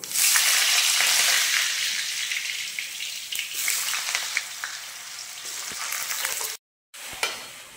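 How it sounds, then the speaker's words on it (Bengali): Cut potato pieces fry in hot white vegetable oil in a kadai, a loud, dense close sizzle that eases slightly over time, broken by a brief silent gap near the end. "এবার আমি টুকরো করে রাখা আলুগুলো ভেজে নেব।"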